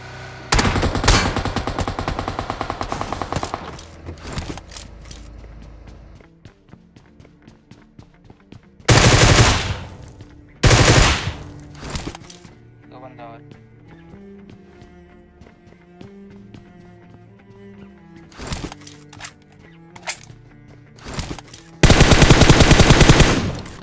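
Bursts of M249 light machine gun fire in PUBG Mobile in Georgopol, with several loud, rapid rattling volleys spread over about twenty seconds between quieter in-game sounds.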